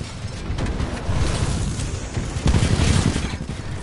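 Gunfire and booms from Titanfall 2 fill the whole clip, sustained rapid shots with heavy low-end blasts, loudest toward the end, with no voices over it.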